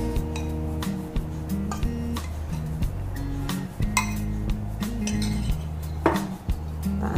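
Coffee and chocolate are stirred together in a bowl, a close stream of clinking and scraping of utensil against the bowl over a low hum, without talk.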